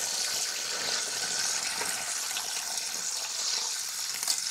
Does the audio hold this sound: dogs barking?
no